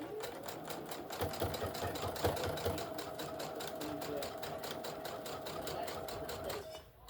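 A sewing machine stitches a bag section in one continuous run, its rapid, even needle rattle close and steady for several seconds before stopping.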